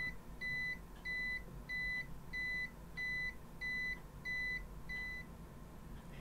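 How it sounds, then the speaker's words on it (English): An APC Back-UPS BE650G2-UK uninterruptible power supply sounds its low-battery warning: about eight evenly spaced electronic beeps in a steady rhythm over faint background noise. "the beeping sound will be a constant beeping sound to warn you that the power is going very low"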